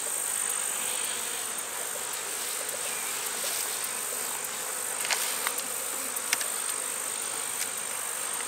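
A honeybee colony hums steadily during an open hive inspection in a fall season check of combined colonies, a dense, continuous buzz with a few individual bees flying close past, no voices.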